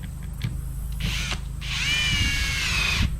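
A power drill driving non-self-tapping screws into shelving for a shed, with a couple of short bursts followed by a longer sustained whine that ends abruptly.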